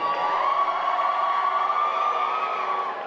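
Museum audience cheers and shouts for Tampa as best city, a sustained crowd roar with a steady held tone, loud and continuous.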